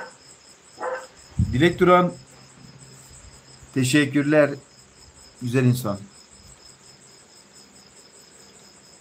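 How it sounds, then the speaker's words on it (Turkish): Crickets chirp at night in a steady, high continuous trill that runs through the whole stretch, while a person talks over it in several short bursts. "Çekirgeler, evet."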